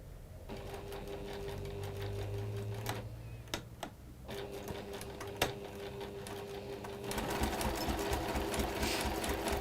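A sewing machine stitching textile, running in steady fast mechanical bursts with rhythmic clatter, briefly pausing and restarting, heard close and alone without talk.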